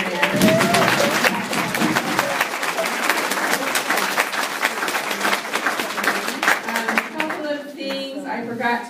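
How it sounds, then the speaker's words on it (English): Audience at a watercolor society member meeting clapping for a presenter, a dense, sustained round of applause that thins and tapers off toward the end, with some chatter underneath. "Can we give one more round of applause for MaryAnn?"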